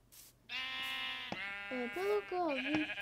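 Sheep in the Minecraft video game let out a couple of drawn-out, wavering bleats up close, with a person talking over them.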